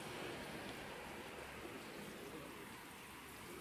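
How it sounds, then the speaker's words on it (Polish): Steady rain falls continuously during a pigeon race arrival, a dense even hiss with a faint patter, constant and fairly close, with no other sounds standing out. "tutaj cały czas pada, trochę mniej teraz akurat"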